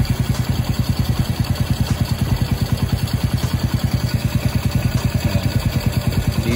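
A Honda Wave 100 motorcycle engine idling with the clutch pressed, a loud close steady rapid putter with even mechanical clatter throughout, no speech.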